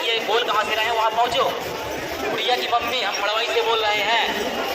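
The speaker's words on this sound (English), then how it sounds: "It is crowded today, so let's go. Look at the crowd." A large crowd of pilgrims moves on foot through Ayodhya, India, a dense hubbub of many voices and shuffling footsteps at close range, with a babble of overlapping chatter throughout.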